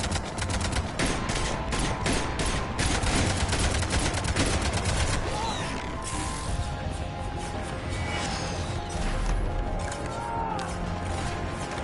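Cannons fire in rapid repeated bursts during Mass Effect gameplay, a dense, loud barrage of booming shots that thins out later under lingering game effects and faint voice.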